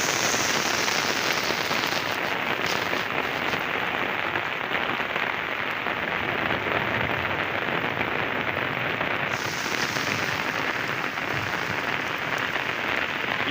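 Steady rain pours down in a rural farmyard where a sacrificial bull stands outside, a dense continuous hiss of drops striking surfaces close by, loud and unbroken with no voices.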